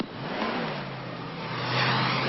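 A car pulls away with its engine revving, a loud continuous motor roar that climbs in pitch and grows stronger as the vehicle drives off.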